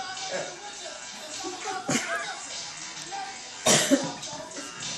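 A couple of short coughs, one sharp and clear, made by a pet bird imitating a cough, sound near a low background murmur of voices and rustling.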